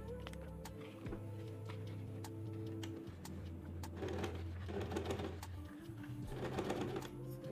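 A sewing machine runs quietly while closing the side seam of a fabric organizer basket, with soft rhythmic stitching and scattered light ticks and clicks mixed in.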